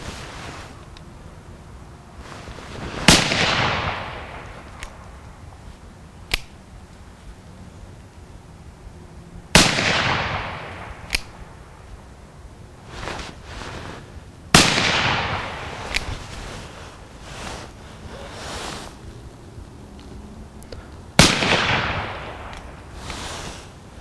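Uberti 1851 Navy black powder revolver with a 5-inch barrel fires four loud, sharp shots spaced several seconds apart, each followed by a fading ring, with a couple of fainter pops and clicks between them.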